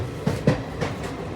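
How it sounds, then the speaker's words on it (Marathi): A passenger train pulls away on its rails after a long halt, its wheels giving a steady, rhythmic clickety-clack at close range with no voices. "ट्रेन फायनली निघाली बराच वेळ उभी होती"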